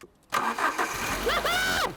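An Alfa Romeo 155 car engine cranks and catches after a short silence, then settles into a steady running idle, fairly close, with excited voices exclaiming over it.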